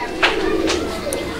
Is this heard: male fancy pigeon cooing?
yes